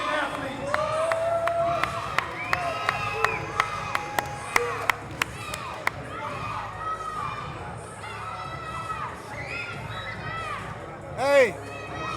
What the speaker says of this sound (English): let's give a round of applause for these 2 outstanding athletes